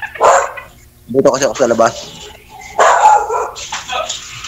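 Several dogs bark angrily at a stranger outside, sending out bursts of sharp, loud, close barks and yips between stretches of a person talking.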